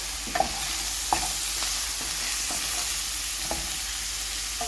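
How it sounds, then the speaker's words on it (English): Devilled sausages fry in a pan with a steady soft sizzle, while a utensil scrapes through them in a series of light, evenly spaced strokes. "Give it a bit of a stir."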